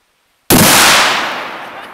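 .50 caliber sniper rifle fired at a watermelon, one sudden very loud blast after half a second of silence, followed by a long decaying rumble and echo.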